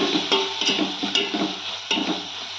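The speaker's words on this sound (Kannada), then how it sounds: "ಇವಾಗ ಫ್ರೈ ಚೆನ್ನಾಗಿ ಮಿಕ್ಸ್ ಮಾಡ್ಕೊಳ್ಳೋಣ" A tomato-onion fry with turmeric is stirred in a pan for dal, with a soft sizzle under repeated close scraping strokes of a spoon.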